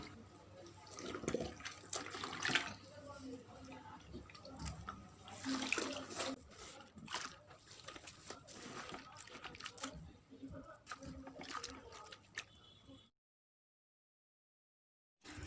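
Water runs and splashes steadily while a large teddy bear shirt soaks, faint and continuous, then stops abruptly near the end.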